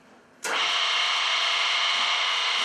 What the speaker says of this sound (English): So I'm going to turn on the press